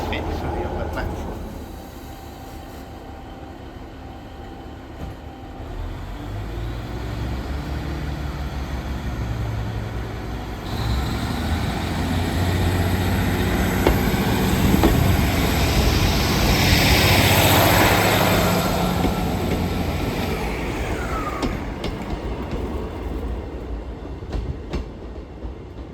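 A train at Coombe Junction station, a long low rumble of engine and wagons that swells in the middle and then eases, with broad noise throughout and what seems to be faint talk underneath.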